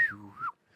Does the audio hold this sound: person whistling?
yes